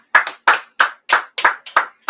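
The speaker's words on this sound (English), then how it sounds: "round of applause" Seven sharp hand claps in an uneven rhythm, close and clear, as a small group at a scripture class gives a brief round of applause with no talking over it.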